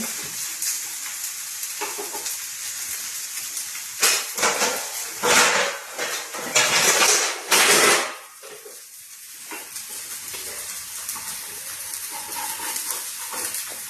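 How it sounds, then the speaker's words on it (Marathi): Tikki patties fry in a pan over low gas, a steady close sizzle with a few louder bursts of crackle and stirring midway, then settling back to a soft even hiss. "अशा प्रकारे टिक्की 2-3 मिनिटं कमी गॅसवरती छान होऊ द्यायचे."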